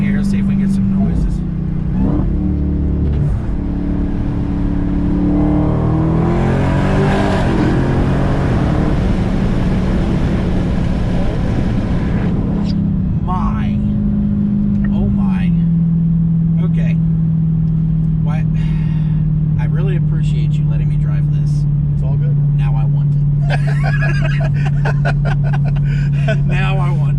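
Supercharged 1,000 hp Dodge Hellcat Redeye engine at full throttle through a tunnel, a loud continuous roar and whine rising then settling into a steady drone, with brief talk over it.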